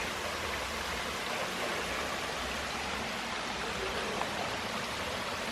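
A small stream at Cliff Cave Park in St. Louis, Missouri flows with a constant soft rush of water, steady and even with no other sounds over it.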